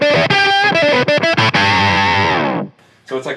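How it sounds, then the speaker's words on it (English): Electric guitar through a Pigtronix Disnortion pedal set to octave with overdrive, playing a loud distorted riff of short choppy notes that gives way to a long sustained ringing note, which cuts off before a brief final strum. "It's octave with overdrive as opposed to octave with fuzz"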